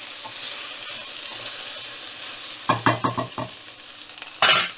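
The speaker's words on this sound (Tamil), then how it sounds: "நான் வெண்டைக்காய் போட்டு வதக்கிட்டுருக்கேன். அதுவும் மெயினாக வந்து இரும்பு கடாயில் செய்கிறேன்." Okra sautés with onions in an iron kadai: a soft, steady sizzle, then a quick run of scraping stirs and one more loud scrape near the end, all close by.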